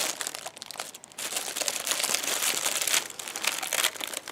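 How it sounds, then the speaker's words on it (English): Steady crinkling and crackling of paper being peeled slowly off the print of a printed garment, close and continuous with small tearing bursts, no voices. "I'm trying to take the paper off, but it's like sticking to the print"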